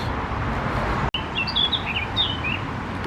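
Several bright, high bird chirps sound in short bursts over a steady outdoor background hiss in a woodland in Sandbach, fairly close and clear.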